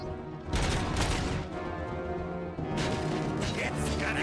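Dense, continuous gunfire from the Robocop: Rogue City video game, bursts of shots rattling over a loud mix with a short lull in the middle before the firing resumes; a voice talks underneath.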